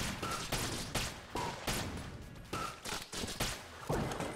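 Gunfire in the video game Enter the Gungeon: a run of sharp, punchy shots in quick irregular volleys, fairly loud and close, with small electronic blips between them.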